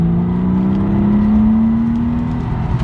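A 1998 Porsche 911 Carrera Targa (993) engine revs steadily and loudly up close, its tone climbing slowly through a sustained whirring drone with no one talking.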